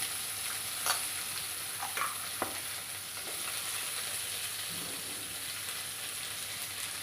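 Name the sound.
tomato frying with green chili and garlic in pan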